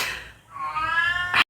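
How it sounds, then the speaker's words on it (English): A house cat meows loudly and close by in one drawn-out, rising call that ends with a short sharp burst, with no talking over it. "Y'all hear my cat?"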